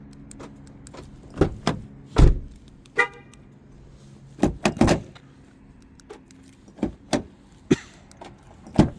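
A 2014 Nissan Pathfinder's lock and unlock signals, with a faulty lock: sharp chirps and clunks of the door locks, in irregular bursts, close by, with no talking.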